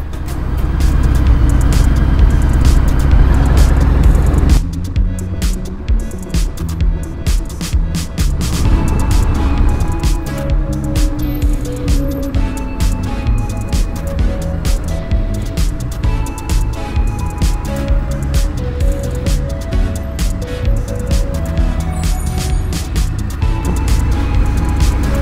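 A 2018 Harley-Davidson Fat Bob Softail with a 107 engine rides along a road, its loud, steady engine rumble and wind noise continuous throughout, with rising and falling engine tones as it shifts and cruises.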